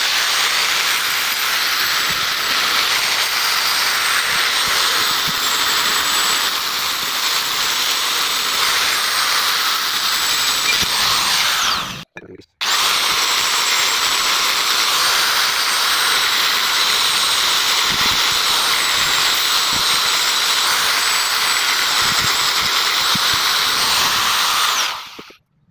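A buffing disc polishes a boat propeller whose surface was first sanded to even out saw marks, making a loud, steady, hissing whir that stops briefly midway and then runs on alone until it cuts off at the end.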